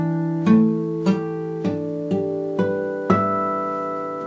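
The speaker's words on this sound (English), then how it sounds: "harmonics are a kind of a bell-like, chime-like sound that you can get on the guitar" Guitar harmonics ring out as five or six bell-like, chiming notes plucked one after another at an even pace, each sustaining and overlapping the next, close and clear with no talking.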